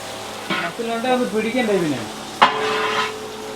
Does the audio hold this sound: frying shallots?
yes